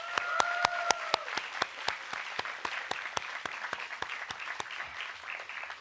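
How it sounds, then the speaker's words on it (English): Sustained applause from a university convocation audience, steady clapping with a few sharper claps standing out, plus a brief high tone near the start. "Let's give them a big round of applause"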